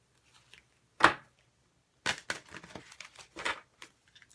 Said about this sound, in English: I just shuffled the cards